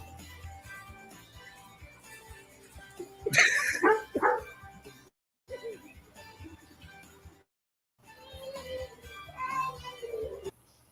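A dog barks and yips in short bursts from a played clip, sounding slightly tinny, with gaps of silence between segments and faint voices around it.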